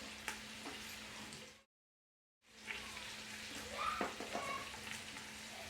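Meat frying with cinnamon in a pot for a prune tajine gives a quiet, steady sizzle with small crackles and pops, broken by a brief moment of silence partway through.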